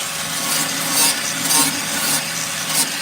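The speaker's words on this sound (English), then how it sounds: "You see it's just smearing the undercoating" Abrasive grinding and rubbing as a grinder works over undercoating on the rear wheel tub of a 1968 Pontiac LeMans, a steady scraping hiss with slight surges and no talking.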